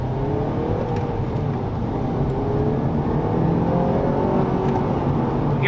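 A sporty Si car sets off on a test drive. A steady, loud engine drone and road rumble fill the cabin as it accelerates, with no talking.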